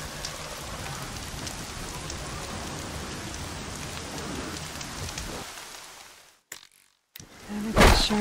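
Steady rain pours across a Horizon Zero Dawn landscape, a dense hiss that drops out briefly near the end before a louder burst returns.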